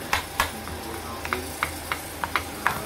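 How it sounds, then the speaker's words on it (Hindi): A spoon scrapes and taps through a potato mixture for a fasting-day dish, giving a series of sharp, irregular clinks and scrapes over a faint background hum, close and fairly crisp. "अब इसको हम अच्छे से मिक्स कर लेंगे।"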